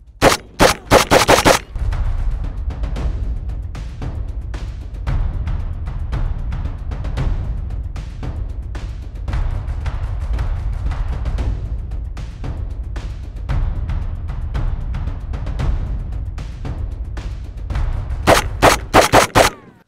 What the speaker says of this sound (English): It's almost too easy with this AK.